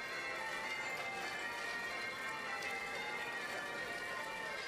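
Church bells of the Cathedral of the Holy Rosary ring steadily from a couple of blocks away, a sustained layered shimmer of tolling tones over a soft city background, with no talking.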